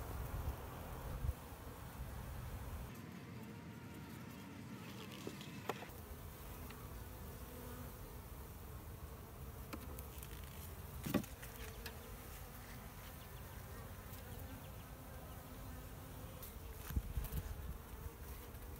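Honey bees buzz steadily around a top bar hive while comb is worked loose from the bottom, a dense, continuous hum close to the microphone with a few soft knocks and rustles.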